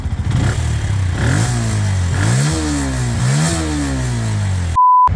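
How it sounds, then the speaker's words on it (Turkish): A Benelli 125S motorcycle engine revs up and down several times from idle, rising and falling in pitch, loud and close, ending with a brief steady tone. "Rölanti sesimiz bu şekilde. Gaz veriyorum."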